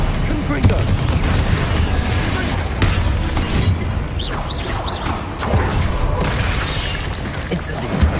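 Spell combat in the video game Hogwarts Legacy, with the Confringo blasting spell among the effects, a busy, dense mix of booms, crackling impacts and clattering bursts, loud and continuous, with a voice speaking beneath.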